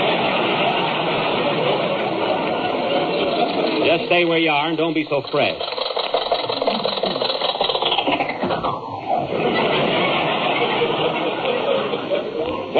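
An old jalopy car engine sound effect from a 1939 radio comedy, a chugging, sputtering mechanical rattle under dialogue that swells into a burst of clattering and then dies down while actors keep talking.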